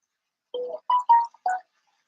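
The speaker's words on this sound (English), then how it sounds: "Phone, I wish you would stop going off because I don't want to hear you" A phone goes off with a brief melodic alert of four quick, clean tonal notes in a quiet room, with no voices.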